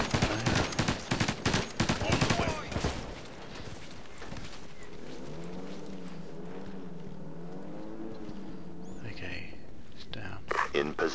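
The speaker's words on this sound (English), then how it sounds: "Captain, taking hostile fire!" Gunfire in the video game Ghost Recon Advanced Warfighter: rapid automatic bursts crackle for about three seconds. Steady game noise and voices follow, with a few more shots near the end.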